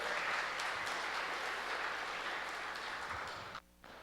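Audience applause at a youth oratorical contest, a steady wash of many hands clapping that tapers off and then cuts out abruptly near the end.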